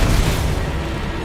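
In Hogwarts Legacy, the Confringo spell blast lands as a loud, dense, low rumbling burst. It carries through the whole short moment and is heard alone.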